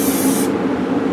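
An aerosol can sprays paint onto a rifle stock during hydrographic dipping preparation, a loud steady hiss close by that thins out partway through the short burst.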